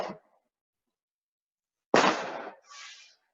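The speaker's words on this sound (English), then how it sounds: "somebody is shooting off fireworks." Fireworks being set off outside, with one short pop at the start, then after a pause a louder sharp burst with a crackling tail and a fainter second crackle, all fairly close and with no talking.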